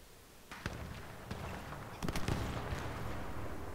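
Gunfire in the sniper game Sniper Elite 4, sharp cracks and a few rapid reports over a dull background, with a louder cluster of shots partway through and lingering noise after.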